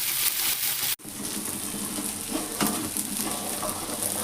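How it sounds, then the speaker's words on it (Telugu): Thick fish pieces frying in oil for a Nellore fish curry give a constant loud sizzle with occasional stirring scrapes, close and steady after a brief cut near the start. "ఈ చేపలు మాత్రం ఇందులో చేస్తున్నాం కాబట్టి కొంచెం ఆయిల్ వేసుకుంటూ ఉండాలండి"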